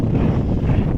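Strong wind roars across a frozen lake during a blizzard, a loud steady rushing buffet that batters the microphone without a break, with no voices over it.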